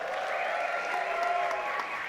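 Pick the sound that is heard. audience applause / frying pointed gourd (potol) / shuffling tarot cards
audience applause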